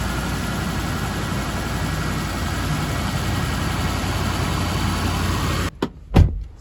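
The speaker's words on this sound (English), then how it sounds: "The motor runs really good." A Ford engine idles steadily and evenly for most of the span, a constant close low rumble, before cutting off into a few short clunks and knocks near the end.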